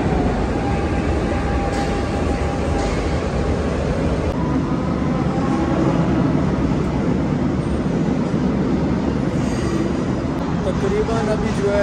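Steady rumble and rattle of a Portuguese metro train in motion, continuous and fairly loud throughout, with faint voices in the carriage.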